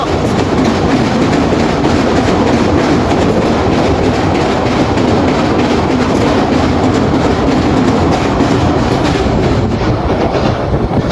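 A train rumbles steadily across the new bridge over the Meghna river at Bhairab, a loud, unbroken roar with rolling wheel clatter that lasts the whole stretch and has no voices over it.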